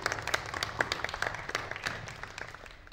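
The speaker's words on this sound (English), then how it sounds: "a big round of applause for Lonneke." An audience at a wellbeing culture forum gives a round of applause, a fairly sparse patter of individual claps that stays even and then thins toward the end.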